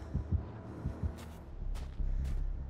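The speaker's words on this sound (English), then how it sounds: "She has heartbeat." A video game heartbeat effect thumps in a steady low double-beat rhythm, close and moderately loud, with a droning hum building beneath it.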